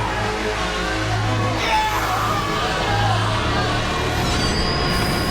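A train rolls along railway tracks with a continuous rumble and clatter, squealing wheels and a long sustained tone, heard loud and close with no voices.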